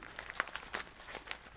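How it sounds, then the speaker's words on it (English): Scissors cut open mail envelopes amid crisp paper crinkling, with a few short rustles and snips close up and fairly quiet. "struggling with the scissors again."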